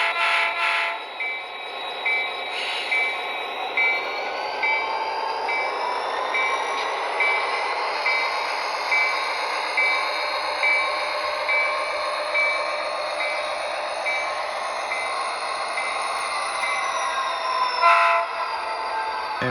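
Athearn SD40T-2 HO-scale model locomotive in Denver & Rio Grande Western livery running in reverse, its sound decoder giving a steady diesel engine drone with horn-like tones and a brief squeal near the end, continuous and fairly close.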